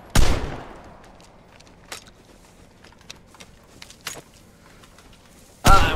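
Sharp, isolated gunshots crack in the video game Vigor, one loud blast at the start and another at the end, with fainter distant shots scattered across a quiet stretch between them.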